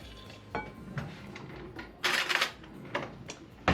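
Ingredients with a teaspoon of salt being stirred in a mixing bowl for a baking recipe, a series of light irregular clinks and scrapes of utensil against bowl, closer bursts of clatter interrupting a quiet room.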